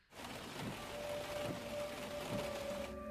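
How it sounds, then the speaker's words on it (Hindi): Heavy rain falling outside makes a steady, broad hiss that holds level throughout, fairly soft and without any talk over it. "बाहर बहुत बारिश हो रही है"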